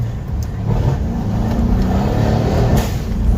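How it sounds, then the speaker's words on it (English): Steady, loud engine drone of a Mercedes C-Class W205 driving in Sport Plus mode, heard from inside the cabin as the transmission shifts, with no distinct shift breaks standing out and no talk. "let me put it in Sport Plus. Damn, it downshifts a little bit quicker."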